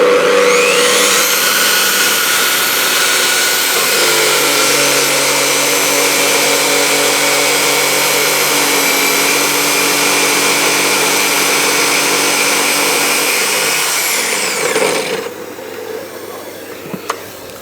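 A Festool plunge saw with dust extraction hose cuts timber along a guide rail, a loud steady motor whine held for about thirteen seconds before spinning down and falling quiet near the end.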